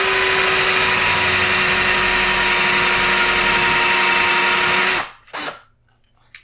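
A drill bit bores steadily into wood, a loud continuous whirring for about five seconds before it stops abruptly, followed by a couple of brief clattering handling sounds.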